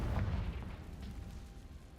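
A Confringo fire spell bursting in Hogwarts Legacy, a deep rumbling boom that hits at once and rolls off into a low fading roar over about two seconds.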